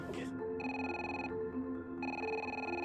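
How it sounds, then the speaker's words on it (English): A telephone rings indoors in two clear electronic bursts separated by a short pause, steady and fairly loud, with no talking over it. "when Wendy's phone rings"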